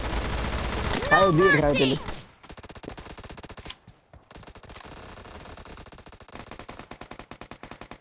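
Gunfire in the battle-royale game PUBG Mobile, bursts of rapid automatic shots and single cracks repeating steadily, loud and close, with a player talking over the shooting.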